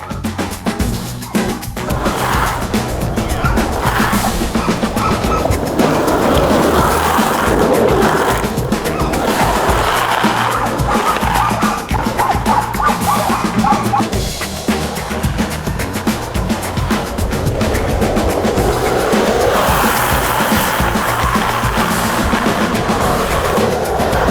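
Soft urethane skateboard wheels slide across pavement in a steady, continuous rolling grind with scraping bursts, close and fairly loud throughout, with no talking.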